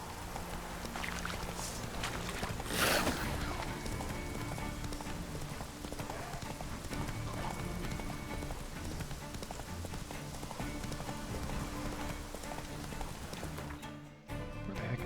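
Horse galloping in The Witcher 3 video game: rapid, rhythmic hoofbeats drumming continuously at close range, with a brief rushing burst early on and steady game ambience underneath.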